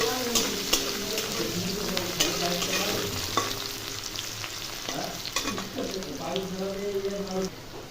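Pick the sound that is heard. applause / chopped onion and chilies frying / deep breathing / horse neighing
chopped onion and chilies frying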